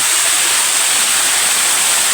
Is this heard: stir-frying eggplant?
no